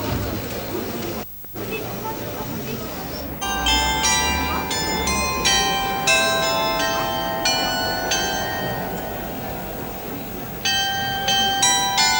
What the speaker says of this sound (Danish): Klokken 12 samles alle turister på torvet for at overvære byens berømte klokkespil